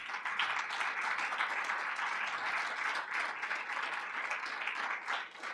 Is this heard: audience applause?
yes